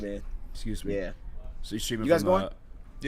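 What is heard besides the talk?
No distinct noise like a dog, phone or traffic.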